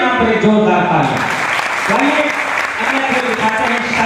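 Loud, dense applause fills the whole stretch at an Independence Day celebration program in Uttar Pradesh, a steady wash of clapping from a large crowd with voices mixed in.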